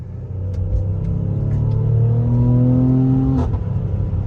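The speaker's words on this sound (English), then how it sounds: "Now, one thing you notice when you go into Sport Plus, yes, that's when it really holds gears. The exhaust gets louder." A Mercedes-AMG GLE43 exhaust in Sport Plus mode roars from close by, a deep throaty rumble rising as the revs climb through a gear, with a few sharp crackles near the end.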